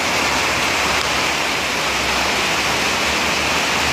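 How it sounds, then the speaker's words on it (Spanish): Heavy rain pours down in Siloé, Cali, Colombia, in a dense, steady roar, loud and unbroken, with no thunder and no voices. "cuando arrecia la lluvia"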